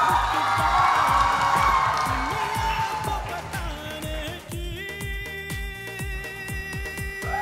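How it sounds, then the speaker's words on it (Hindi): Cheering and applause from an audience at a Bollywood-style dance competition elimination round in Arunachal, loud and dense at first and thinning after a few seconds over steady, thumping music with a driving beat. "जोरदार तालियां"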